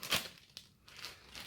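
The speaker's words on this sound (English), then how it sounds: "You're going to grab your plastic bag." A plastic bag crinkles in one brief, quiet rustle near the start, followed by a faint crackle and soft handling noise, with no talking.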